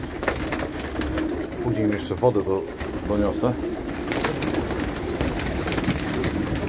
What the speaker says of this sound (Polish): Gołębie zostały nakarmione. Jedzą właśnie teraz wszystkie sobie przy korycie.